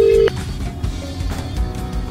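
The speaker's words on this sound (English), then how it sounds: "Right, it's ringing." A phone line ringing out during a live call on an online radio broadcast, a brief steady tone at the start followed by quieter ringing with low background hum.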